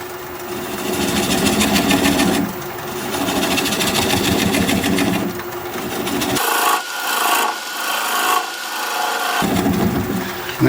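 A wood lathe turns a pecky hole cherry bowl at about 400 RPM while a bowl gouge cuts, producing a loud continuous rasping scrape that pulses and shifts in tone, breaks briefly into lighter scratchy strokes, then returns.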